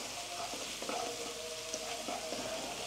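Onions and red chili fry in olive oil, a steady close sizzle with a bright hiss and faint tonal clinks of a utensil against the pan. No one talks over it.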